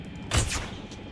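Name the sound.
tranquilizer gun shot at a dinosaur in video game Jurassic World Evolution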